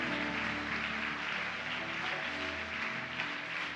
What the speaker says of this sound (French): Est-ce qu'on peut glorifier Jésus par des acclamations?